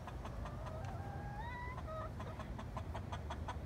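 Backyard hens clucking softly at dusk, a quiet run of short repeated clucks with a longer rising call in the middle, fairly faint and close.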